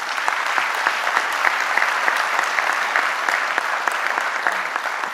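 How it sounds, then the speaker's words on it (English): Audience at a transportation industry town hall gives a round of applause, a full, even wash of many people clapping close by with crisp individual claps throughout. "They deserve a round of applause,"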